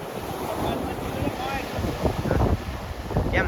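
Sea waves wash against a boat on a coastal fishing trip, with steady wind buffeting the microphone and water sloshing louder in the second half.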